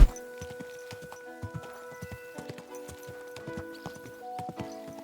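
Horse hooves clip-clop at a steady walking pace in the video game Kingdom Come Deliverance 2, close and distinct over soft, tonal ambient music, with a brief whinny-like sound and no talk.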